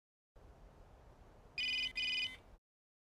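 A telephone in an anime rings in two short electronic bursts over a faint hiss, clear and close, then cuts to silence.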